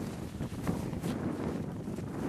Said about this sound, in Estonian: Aga tuul on